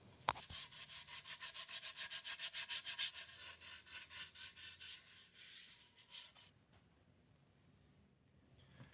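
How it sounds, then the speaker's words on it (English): Rhythmic back-and-forth scuffing of a guitar body being sanded before painting, a steady run of close, even strokes that fade out, followed by near silence. "we got to scuff this down first"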